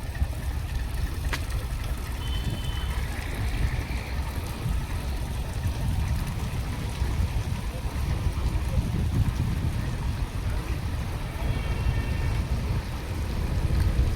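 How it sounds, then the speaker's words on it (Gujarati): A diesel fishing boat heads out of Mangrol harbour at the start of the fishing season, its engine a steady low rumble that carries on throughout with water and wind noise around it. "અત્યારે હવે ફિશિંગમાં બોટ જઈ રહી છે।"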